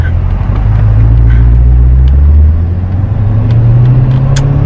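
A C8 Corvette with bolt-on mods revs close by, a loud deep engine rumble that rises and holds, dips briefly, then climbs again over several seconds.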